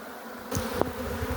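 A swarm of bees from a hive is being caught. A steady buzz hums through the short stretch, rising briefly as something is disturbed, close by with no voices.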